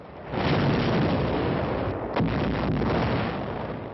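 Heavy German 88mm gunfire during the Allied landings at Salerno, a loud continuous roar of artillery with one sharper blast standing out midway through, dense and close.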